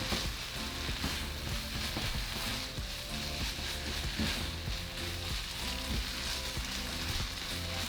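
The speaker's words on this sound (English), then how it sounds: "Now just mix it." Ground beef with tomato paste and refried beans sizzling steadily in a pan as the mixture is stirred, a dense continuous crackle with soft scraping throughout, no voices.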